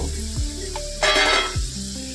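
Cubed potatoes fry in hot oil for mutton keema, giving a steady close sizzle that swells briefly in the middle, with faint stirring scrapes.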